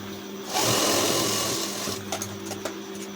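A sewing machine stitching a blouse runs in one steady whirring burst for about a second and a half, then a few lighter clicks and taps follow as it slows and stops.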